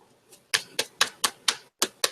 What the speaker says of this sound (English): So we'll just, we'll do some shuffling.